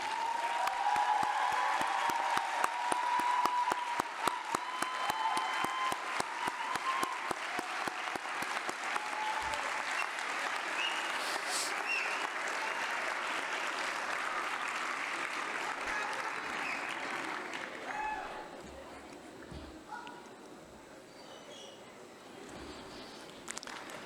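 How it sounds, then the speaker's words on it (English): Sustained applause from a large audience at a university graduation commencement ceremony, dense steady clapping for about twenty seconds before it thins to scattered claps and quiets near the end. "give them a round of applause"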